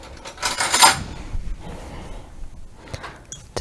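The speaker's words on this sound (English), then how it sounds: "We're just gonna give that a stir." A spoon stirs chopped parsley into a mixture in a bowl for baked parmesan tomatoes, giving a brief scraping swirl followed by a few light clinks against the bowl, close and fairly quiet.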